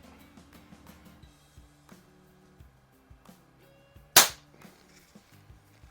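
A single sharp crack from a 1946 Benjamin 137 airgun at a target range, one brief loud shot standing out against quiet low background hum.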